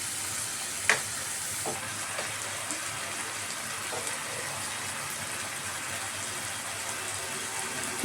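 Minced keema simmering with spices in a pan after a splash of water, giving a steady soft sizzle and bubbling hiss throughout, with an occasional light clink of a utensil near the start.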